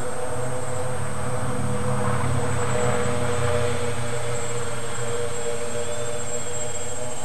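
A scratch-built Xcopter multirotor with an HK i86 controller hovers nearby, its motors and propellers making a loud, steady droning whine that holds constant throughout.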